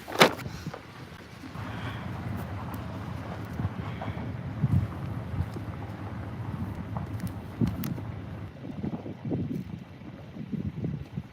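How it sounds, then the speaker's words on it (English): Blustery outdoor wind on a farm gusts against the microphone in a steady low rumble, swelling and easing in buffets throughout, with no talking. "It's a little blustery."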